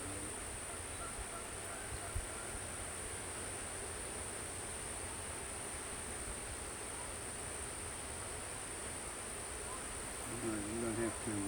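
Honeybees buzz in a steady, dense hum throughout a Pine Mountain hive inspection among queen cells, with a brief voice near the end.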